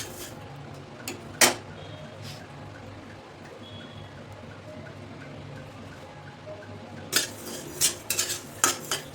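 Indori coriander seeds dry roasting in a pan over a medium flame, with sparse clinks of a spoon stirring early on, a quiet stretch, then a quicker burst of scraping and tapping near the end.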